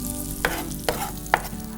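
Garlic sizzles in a hot pan for chicken piccata while a utensil scrapes and taps against the metal three times over a steady low frying hiss.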